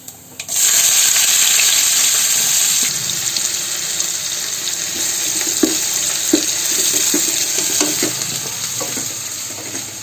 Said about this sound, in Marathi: आता हा कांदा आपल्याला आहे ना चांगला लाल होईपर्यंत फ्राय करून घ्यायचा आहे